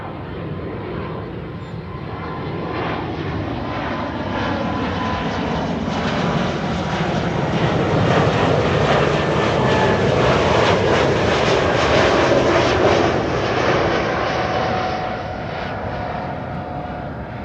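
An airplane approaching Amsterdam Schiphol Airport roars in from a distance, its engine noise swelling steadily to a loud, broad rumble at its nearest before slowly easing off, with no talk over it.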